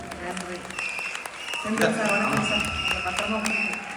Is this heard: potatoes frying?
no